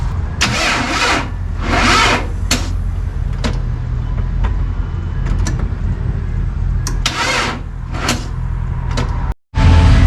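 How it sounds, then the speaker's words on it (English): A truck engine cranks through several bursts of the starter, with short gaps between them, before catching. The truck has a newly installed 4L60E transmission with a Sonnax Performance Pack shift kit. The engine settles into a steady running drone, close and loud, with a brief dropout near the end. "I think we need to start the truck and crank that pump over"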